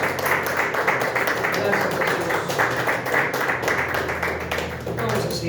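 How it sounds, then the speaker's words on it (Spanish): Church congregation clapping during an evangelical Sunday worship service, a steady dense patter of hands filling the room while a voice speaks over it. "Vamos a dar un aplauso al Señor."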